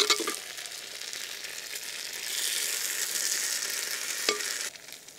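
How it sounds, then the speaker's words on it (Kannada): Jackfruit seed curry (Mangalore-style uppu sole palya) frying and being stirred in a pan, with a steady close sizzle, occasional scraping strokes and a sharp clink near the end, no voices. "ಈಗ ಸರಿಯಾಗಿ ಬೆರೆಸಿಕೊಂಡ್ರೆ ಆಯ್ತು."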